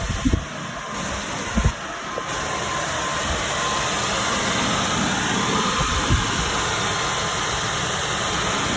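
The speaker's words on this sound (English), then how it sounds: "And then I have a big blower in here, blowing really hard." A big blower runs hard in a workshop where lawnmower blades are sharpened on a belt sander, giving a steady, loud rushing roar throughout, with a few brief knocks near the start and no talking.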